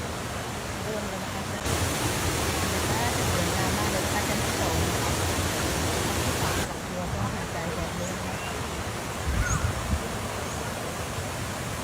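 Cascading water at a seven-tier waterfall, a steady broadband rushing roar that swells louder for several seconds midway, with faint talk nearby.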